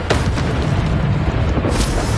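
A Bombarda spell explodes in a Harry Potter video game, a heavy, booming blast that swells up close and rumbles steadily for a couple of seconds with no voices.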